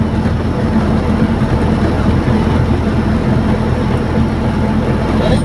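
A Mitsubishi Colt T120SS engine with CDI ignition and a Pulsar pickup runs at around 2500–2750 RPM, giving a steady, loud, low mechanical drone with no pauses.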